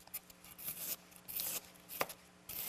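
A knife slicing an onion very thin on a cutting board for a holiday cranberry salad: a few close, dry scraping cuts in short separate strokes, quiet, with no talking.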